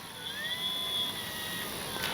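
Electric motor of an FMS 1400mm F4U Corsair RC warbird whines steadily at close range, a high sustained tone that bends upward then levels off over a constant broadband hiss.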